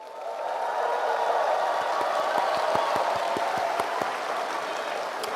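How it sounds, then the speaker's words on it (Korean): Crowd applause at an outdoor political rally, a broad, steady wash of clapping that swells within the first half second and holds evenly for several seconds, with sharp individual claps standing out near the front. "여러분 큰 박수 부탁드립니다"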